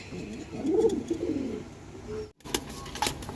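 A pigeon coos softly up close at a pigeon market, a low rolling call in the first seconds, then a few sharp clicks and rustles over a faint background hum.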